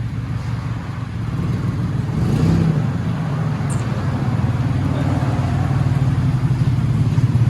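A 2018 Ford Mustang EcoBoost with a four-cylinder turbo engine runs with a steady, mid-pitched exhaust drone. The drone swells slightly after a couple of seconds and holds close and constant.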